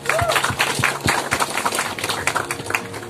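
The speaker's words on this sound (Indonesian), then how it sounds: "Tepuk tangan buat Mas Oki." Audience applause at an outdoor ultralight aviation gathering at Embung Kledung in Java, a burst of many close hand claps sustained and fairly loud throughout.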